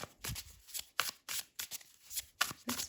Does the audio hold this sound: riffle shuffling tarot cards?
yes